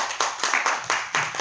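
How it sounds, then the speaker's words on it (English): Audience applause at an LGBT equality town hall, a short burst of scattered hand claps with uneven rhythm, fairly faint and distant-sounding in a large room. "Let's give him a round of applause"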